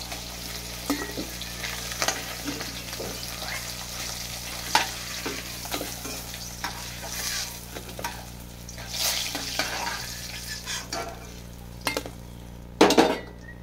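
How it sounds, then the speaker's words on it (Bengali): Pieces of fish sizzle in hot oil with a steady crackle, while a spatula scrapes and knocks against the pan in irregular bursts, ending in a louder clatter. "আর এক পিস মাছটা ভেজে নেবো"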